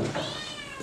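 A kitten at an animal shelter meows in a short, close, fairly loud cry with rising, wavering harmonics, heard alone.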